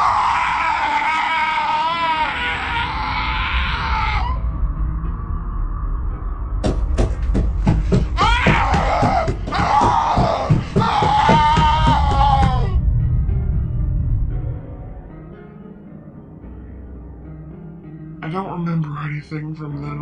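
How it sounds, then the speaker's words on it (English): A woman's high wailing scream in a Korean horror story, long drawn-out shrieks that start and stop over a low rumbling drone, loud and harsh rather than distant. "I heard her screaming from far away."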